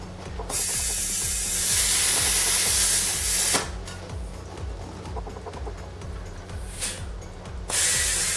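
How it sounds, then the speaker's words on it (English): A small 3-gallon tire inflator compressor rig inflates a tire, with a loud, steady rush of air, a ratcheting mechanical clatter under it, sharp releases, and then air flowing again. "My small 3-gallon tire inflator rig will work just fine."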